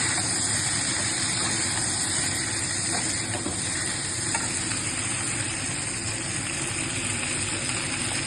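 Raw green banana and potato fry together on full flame, producing a dense continuous sizzle and hiss with the steady roar of a burner beneath it and faint stirring.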